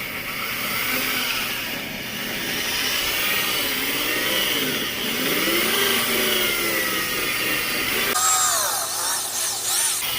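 A power drill runs steadily and loudly throughout while restoring 3rd-generation Camaro seat foam, its motor pitch rising and falling as it works, with a sharper change near the end.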